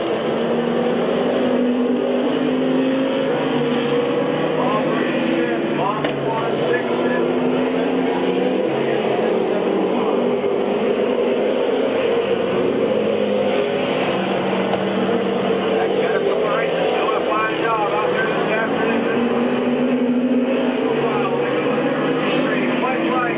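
Stock cars race around Midvale Speedway, a steady roar of engines droning and swelling continuously under a commentator's voice.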